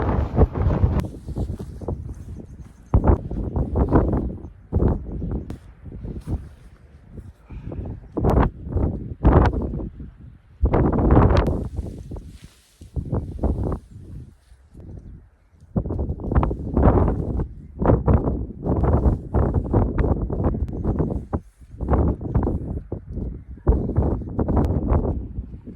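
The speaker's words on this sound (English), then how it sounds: "A little bit windy on the top." Strong wind buffets a hilltop in irregular gusts, roaring loudly against the microphone and then dropping to brief lulls over roughly twenty-five seconds, with no voices heard.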